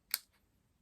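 A single crisp scissors snip cuts off a die-cut paper piece for a birthday card, close and quiet, with a faint second click just after.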